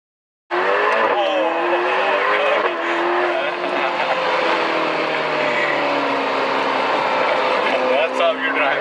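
A Ferrari sports car's engine revs and climbs through gears at close range, with a loud, continuous rising whine and brief tire squeal, while people talk over it.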